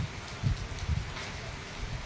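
Rain falls on an empty school ground lined with rows of trees in the morning, a soft, steady patter of drops on surfaces and leaves with no voices.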